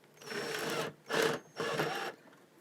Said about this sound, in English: whack another screw in